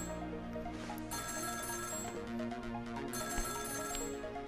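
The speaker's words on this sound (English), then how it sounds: "Oh, there's our lovely phone call." A telephone rings in the Ghost Trick: Phantom Detective video game, a steady electronic ring sitting inside a dense, continuous layer of game music, with no talking over it.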